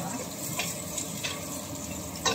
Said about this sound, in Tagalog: dito ko sa kaserola nagluto